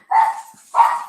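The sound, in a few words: dog barking in the house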